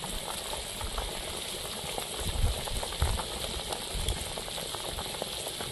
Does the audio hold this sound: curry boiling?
yes